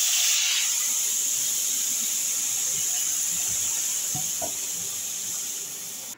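Lote (Bombay duck) fish, coated with chilli powder and raw oil, sizzling in hot oil in a pan, a steady close hiss and crackle throughout that fades slightly at the end, with no talk.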